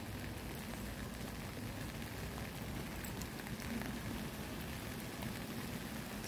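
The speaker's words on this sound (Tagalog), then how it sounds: "Umuulan. It's raining, man." Steady rain falls near Jin Shin Lake, a constant hissing patter on surfaces, moderately faint and unbroken throughout with no talking.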